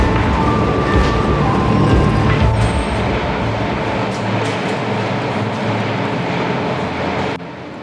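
A Paris Metro Line 7bis train rumbles along the rails with a steady, loud roar, a faint high whine rising briefly before the noise drops near the end.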